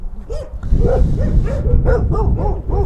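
Several stray dogs at a dump bark repeatedly close by, sharp overlapping barks with a few yips and whines mixed in, continuing steadily with no pause.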